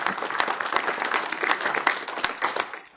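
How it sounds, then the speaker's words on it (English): Audience at an Arizona sportsman's constituency group meeting breaks into steady, dense clapping that fills the room for about three seconds with no talk over it. "Give him a round of applause."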